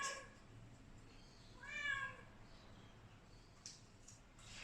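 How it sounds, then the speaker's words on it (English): An indoor cat lets out one clear, drawn-out meow near the middle, fairly close but quiet, with a few faint knocks afterward over a low background hum. "Is that my cat?"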